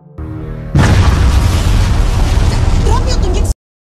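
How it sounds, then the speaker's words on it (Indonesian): A loud, sudden explosive boom that swells into a dense, sustained rumble for a few seconds, then cuts off abruptly; a voice murmurs faintly beforehand. "Lalu terdengar gemuruh seperti ledakan, menandakan dimulainya kembali pengulangan"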